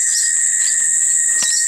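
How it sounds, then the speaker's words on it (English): A loud, steady, high-pitched insect drone of cicadas fills the air continuously and close by, with no talking. "Here are all the cicadas. Gee, they're noisy, aren't they?"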